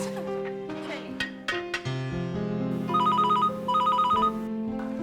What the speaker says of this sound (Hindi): बाद में देखना फोन किसका है